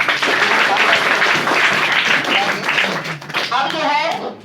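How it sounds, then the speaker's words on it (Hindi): Class 10 students in a classroom clap together for the top students, a burst of dense, fairly loud clapping for about three seconds before it fades and a voice starts talking. "तो ताली बजाइए इनके लिए।"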